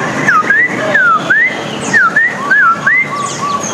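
Caged pet birds at an outdoor bird market give repeated rising and falling whistled calls, clear and fairly close, in short phrases over a low background murmur.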